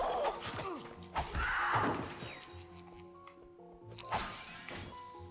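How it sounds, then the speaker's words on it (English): Bomb glove weapon blasts sound in the Ratchet & Clank video game as several dull thumping explosions and impacts, mixed with game effects and tonal music, moderately loud without speech. "That's just bomb glove."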